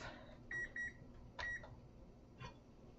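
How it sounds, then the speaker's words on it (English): A kitchen timer beeps during a live yarn-dyeing session, sounding three bursts of quick, bright electronic tones spaced about a second apart over a steady low background hum. "the timer is going off."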